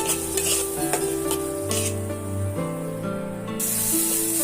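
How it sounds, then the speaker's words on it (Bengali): Tomatoes frying in a pan with a half spoon of salt give a steady sizzle and hiss close by, with occasional stirring over a constant tonal background hum. "টমেটোটা ভালো করে ভাজা করে নেব"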